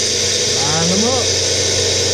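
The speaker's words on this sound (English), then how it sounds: "I got some of my sunflower seeds in my little blitzer grinder." A small blitzer grinder whirs loudly and steadily as it grinds sunflower seeds, with a high mechanical hum that holds throughout and a person speaking briefly over it.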